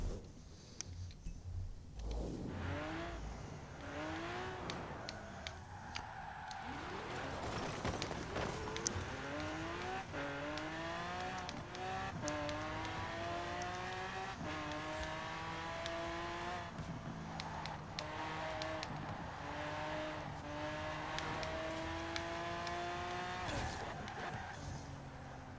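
A Chevrolet Camaro Z/28 street racing in Forza Horizon 4, its engine revving hard through repeated rising upshifts and sustained high-rpm pulls, loud and continuous with brief tire noise.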